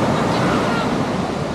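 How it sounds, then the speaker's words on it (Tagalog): Morning surf at Baler Beach, a continuous close wash of small waves with wind buffeting the microphone throughout. "Pag maaga pala, hindi masyadong lalaki ang alon."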